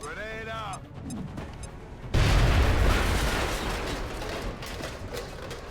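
A grenade blast in XCOM: Enemy Within bursts in suddenly after a short mechanical clatter and a brief voice, then rumbles and decays into a sustained noisy roar.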